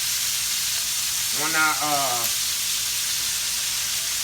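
Chopped onions sizzle in a hot pan over medium heat, a steady, even frying hiss running through the whole stretch, with a short spoken word partway through.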